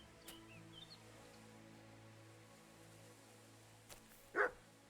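A dog barks once in Kingdom Come: Deliverance II, a short sharp yelp near the end over quiet game ambience with faint rustling.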